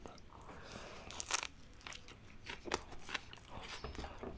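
Crunchy bites into a huge homemade smoked egg salad sandwich layered with crisp romaine and hot sauce, several sharp close crunches spaced apart with soft chewing between them, no talking.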